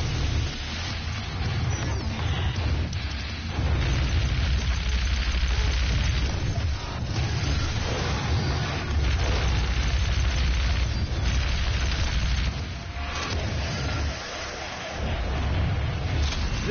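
Repeated heavy blasts from an area-of-effect weapon in Doom, loud booming explosions layered over continuous combat noise, with brief dips between bursts.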